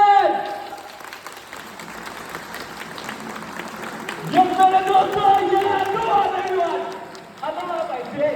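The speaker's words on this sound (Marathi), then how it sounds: "त्यांनी टाळ्या वाजवणार, ते पण जोरात" A live event audience breaks into loud clapping that fades, then surges again into dense, sustained applause mixed with crowd noise and tonal voices over several seconds.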